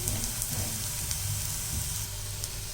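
Wheat flour adai fries in oil on a pan, a dense, even sizzle close by with a constant hissing crackle and faint pops, no voices over it.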